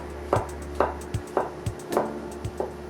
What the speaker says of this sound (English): I've got about 250 grams of mushrooms that I'm going to slice thinly